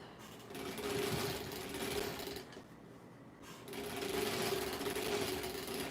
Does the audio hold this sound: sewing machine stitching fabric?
yes